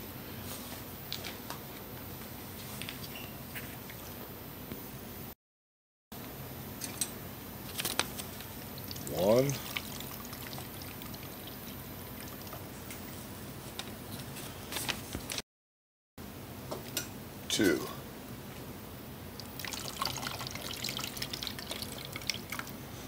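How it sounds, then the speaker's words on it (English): Water is poured into a canister holding a sand sample during a sand specification check for a Presby AES system, heard as quiet, intermittent trickling and dripping with a couple of brief louder splashes, close and faint, with no talking. "I'll add 2 cups of water."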